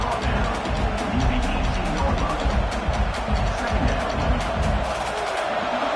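A large football stadium crowd at an Ohio State versus Michigan game roars in a loud, sustained wash of cheering and noise that holds for the full six seconds.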